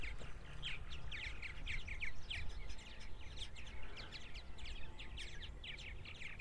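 Purple martin nestlings chirp inside the nest, a faint, muffled stream of rapid high chirps and clucks repeating steadily over a low background hum.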